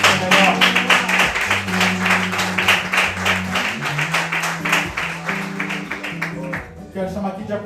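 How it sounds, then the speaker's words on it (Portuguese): A church congregation claps along at a Nova Vida service while organ or keyboard chords sustain underneath, steady claps fading toward the end. "Aplauda o Senhor que está melhor."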